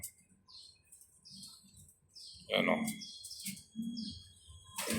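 Newly hatched pigeon squabs feed together, their faint high chirps and peeps scattered over soft rustling and clicking, with a person talking quietly nearby.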